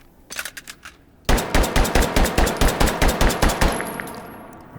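A Glock pistol in Hot Dogs, Horseshoes and Hand Grenades fires a few scattered shots, then a fast even string of about a dozen sharp, loud, close reports with a ringing tail.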